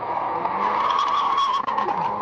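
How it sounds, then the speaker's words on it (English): Car tyres screeching continuously as a vehicle speeds away, a sustained loud squeal over engine noise, heard close on a dashcam at night after a masked man approaches. "We can then hear the screeching of tyres as the OP speeds away from the masked man."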